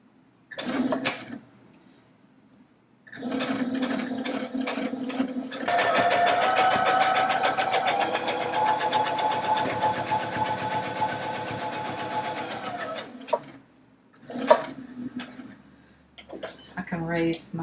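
A Baby Lock Allegro sewing machine stitches a seam in a steady, rapid mechanical whir lasting several seconds, with brief talk before and after the run.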